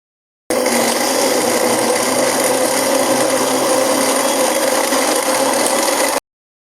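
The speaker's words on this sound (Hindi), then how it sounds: "मैं यहाँ पर बर्फ़ भी शामिल करूँगी, साथ में ही ग्राइंड करेंगे बर्फ़ डालकर।" A blender grinds pineapple with ice for fresh juice, a loud, steady rough whir with a gritty rasping texture that starts and stops abruptly over about six seconds, with no voices.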